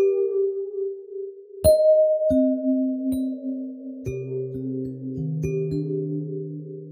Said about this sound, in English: Get these really crazy flanger-esque sounds, especially with some distortion and some filtering.